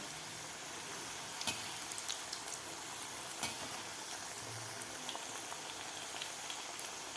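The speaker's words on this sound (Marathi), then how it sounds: "आपल्या वड्या थोडासा गोल्डन कलर होईपर्यंत आपल्याला तळून घ्यायचे आहेत" Alu wadi, colocasia leaf rolls, frying in hot oil, giving a steady broadband sizzle with scattered crackles and a few sharper pops, continuous and fairly close throughout, no voices.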